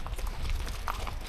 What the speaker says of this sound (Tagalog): May bago ng pangalan yung kabayo ko, si Sepang.